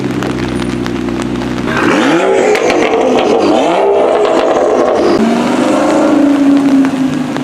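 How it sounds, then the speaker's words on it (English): A V10-engined car revving at an outdoor car show, loud rising and falling engine sweeps repeated several times over steady rain and wind noise. "Sounds like a V10 over there."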